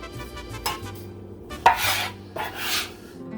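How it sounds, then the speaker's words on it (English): A scraper drags chopped carne asada fries ingredients together into a bowl in a kitchen, giving a few close, short rubbing scrapes with quiet pauses between them. "We're going to take our bowl, take our scraper, get everything together in the bowl"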